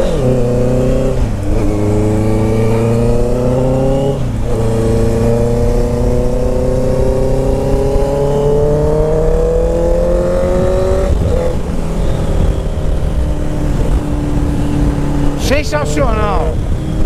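A Honda CB650F motorcycle fitted with an Atalla 4x1 stainless steel exhaust is ridden hard. Its loud, raw engine note climbs through the revs, drops at each gear change and climbs again, with a rider's voice over it.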